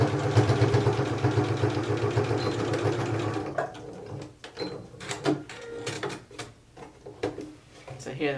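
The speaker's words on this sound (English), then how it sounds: "we're going to just sew straight across this line, back stitching at the start and the stop" Sewing machine stitching straight across a line on fabric for a double wine bag carrier, with backstitching at start and stop: a fast, steady mechanical chatter for about three seconds, then short stop-start bursts and clicks.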